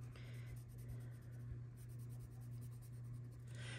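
Soft, continuous scratching of a pencil colouring on paper in steady strokes, close and quiet over a low electrical hum.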